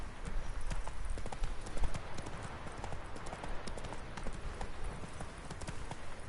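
Geralt's horse Roach galloping in The Witcher 3, a fast, steady run of close hoofbeats sounding continuously without pause.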